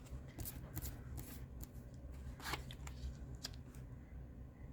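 Divination cards are handled and shuffled close up, with a run of soft papery riffles and flicks at an irregular pace and no talk over them.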